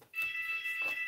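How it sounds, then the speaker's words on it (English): A steady high-pitched electronic alarm tone starts abruptly and holds unbroken for about a second, loud and close, in a workshop during a Technics 1210MK2 turntable strip-down. "Again, that's my alarm."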